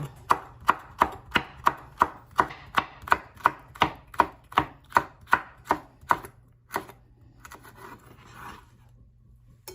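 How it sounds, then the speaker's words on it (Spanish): A knife chopping sweet pepper on a cutting board for pupusa pickled slaw, about seventeen quick, even, close strokes in a steady rhythm before trailing off into light scraping. "Ahora voy a picar el chile dulce."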